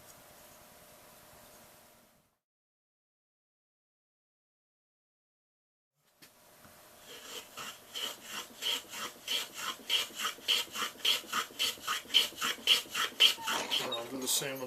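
Filing and rasping strokes on the edges of a wooden kirar tailpiece, bevelling it: a soft scrape, a silent pause, then a steady run of rhythmic back-and-forth rasp strokes building in loudness, close and alone.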